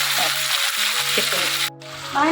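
Steady hissing sizzle of oil in a pan that had been used to fry potatoes, with tomatoes being added, close and loud. A voice talks over it, and the sizzle cuts out briefly near the end before resuming.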